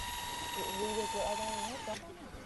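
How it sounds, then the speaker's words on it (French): A power drill whines as it bores into the horn of a sedated rhinoceros during anti-poaching work in South Africa, the pitch wavering and shifting before cutting off near the end, with a voice speaking over it. "On perce ensuite la corne pour y placer une sonde."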